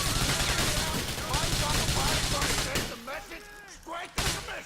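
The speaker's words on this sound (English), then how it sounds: "Nico has a little trouble shooting in close quarters for some reason." Gunfire in the video game Grand Theft Auto IV: dense, loud bursts of shots and fusillades in close quarters over busy game sound, thinning out before a final shot, with voices heard in the mix.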